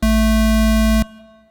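A synthesized tone mixing a sine wave and a square wave hums steadily and loudly for about a second, buzzy and harmonically rich, then stops abruptly, leaving a faint fading remnant.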